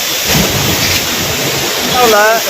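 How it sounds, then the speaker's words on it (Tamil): Heavy rain pours steadily and loudly close by on a roadside during a temple trip, a dense, unbroken wash of sound, with a brief tonal call rising near the end. "சரியான மழை, ஆக்கையில் கண்கொள்ளா காட்சியாக இருக்குது."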